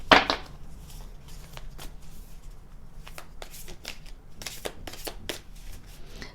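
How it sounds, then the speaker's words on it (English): Tarot cards being shuffled by hand, soft riffling and flicking in irregular bursts, close and alone with a faint background hum. "Let me shuffle it a little bit more."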